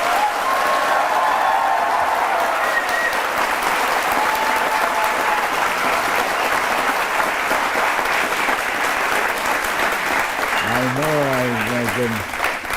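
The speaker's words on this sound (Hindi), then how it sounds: "जो यहाँ लोग बैठे हैं उनके तालियों से पता चलता है कितना प्यार लोग आपको करते हैं" A seated studio audience applauds warmly for veteran film star Dharmendra, a loud, continuous wash of clapping that holds steady, with a few brief voices surfacing near the end.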